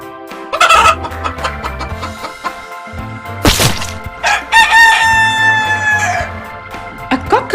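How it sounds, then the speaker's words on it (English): Farmyard chicken clucking and a loud rooster crowing come in bursts over a rhythmic music track, with a sharp whack partway through. "It's chicken."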